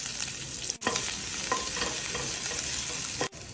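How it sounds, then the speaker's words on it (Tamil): Chopped garlic and cumin fry in ghee with a loud, close sizzle, and a spoon stirs and scrapes through it, with two brief cuts in the sound. "பூண்டு நல்லா வதங்கிருச்சு."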